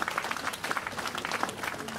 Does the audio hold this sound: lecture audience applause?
yes